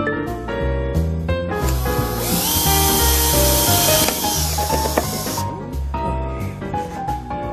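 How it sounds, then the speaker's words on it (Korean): A power drill bores a hole through a marked center point during a recycled autumn home-decor craft, giving a steady whirring grind of several seconds over background music. "그 부분을 이제 드릴을 이용해서 구멍을 뚫어요."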